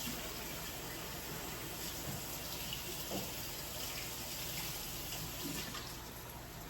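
Water from a kitchen tap runs steadily for several seconds while hands are washed after handling raw meat, a constant soft rushing close by with no talk.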